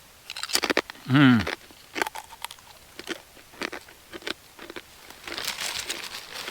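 Crisp dried apple chips crunch loudly between the teeth outdoors in the wilderness, in rapid bursts of close-up chewing with short pauses between bites.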